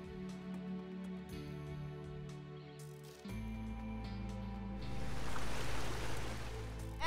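A waterfall is reached on foot, its broad rushing roar swelling louder over the last seconds and blending with a low steady hum. No one speaks.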